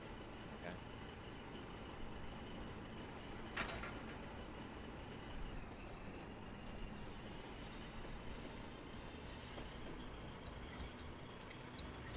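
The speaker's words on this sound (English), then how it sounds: "the train blocks the road" A train rolls past in the video game Foxhole, a faint, steady rumble of rolling wheels with occasional high squeals, distant and continuous throughout.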